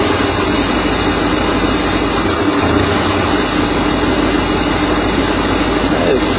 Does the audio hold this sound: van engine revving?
yes